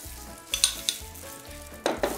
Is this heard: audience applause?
no